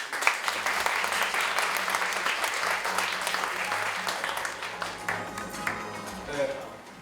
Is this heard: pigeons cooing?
no